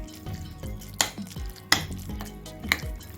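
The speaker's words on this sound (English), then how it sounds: "Mix everything." A spoon works through chicken shawarma marinade with mayonnaise in a bowl, giving soft wet stirring and a few sharp clinks against the bowl's side, close and steady with no talking.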